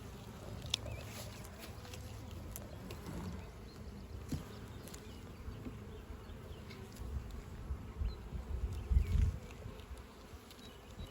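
Honey bees buzzing steadily around an opened hive with capped honey, pollen and burr comb in new equipment, a low continuous hum with occasional handling bumps and knocks near the end.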